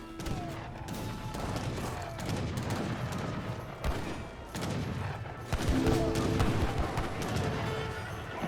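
Heavy cannon and artillery fire from an Age of Empires 3 battle: dense, continuous volleys of booms and crackling gunfire, loud and layered throughout, with several sharper blasts near the end.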